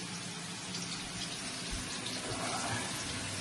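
Tap water runs steadily in a kitchen while hands are washed after handling raw meatball mixture, a continuous close splashing hiss with a few louder splashes toward the end.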